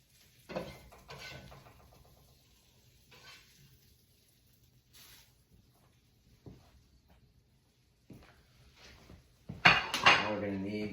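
Plates and cutlery clink and scrape while serving a St. Patrick's Day dinner of fried cabbage and corned beef in a home kitchen, scattered light knocks building to a louder clatter of dishes at the end.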